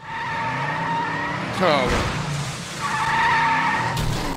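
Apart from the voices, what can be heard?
cartoon car accelerating with skidding tires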